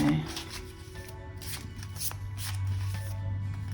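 A deck of cards is shuffled by hand indoors, a quick run of close, crisp riffling flutters under a low background hum, with a voice speaking over it.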